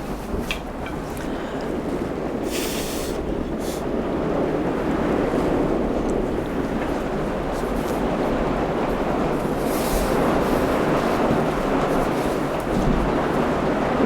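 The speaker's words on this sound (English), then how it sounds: "Probably hear the rain, because I can hardly hear myself." Heavy outdoor rain pours down in a steady, loud broadband roar with gusty wind buffeting the microphone, continuous throughout and with no voice heard.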